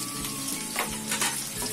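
Garlic, onion and capsicum frying in a pan for soya chilli, a soft steady sizzle with light crackle and a few stirring bursts, close up and fairly quiet with no voices.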